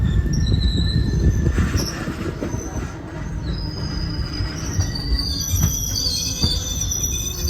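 A Tutari Express train rolls steadily along the rails between Dadar and Savarda, with a constant low rumble and thin metallic squeals ringing above it throughout.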